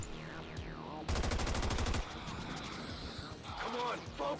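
A rapid burst of weapon fire in the XCOM 2 video game, a loud rattling volley lasting about a second amid swooping game effects and mechanical clatter, with quieter effects after.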